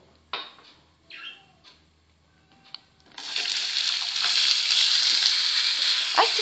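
Chopped onion hits hot oil over medium heat and breaks into a loud, steady sizzle after a few quiet clinks and handling sounds.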